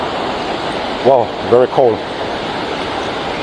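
Steady broadband rush of Maranum Falls, a waterfall in the Philippines, filling the scene continuously, with a person briefly speaking over it midway.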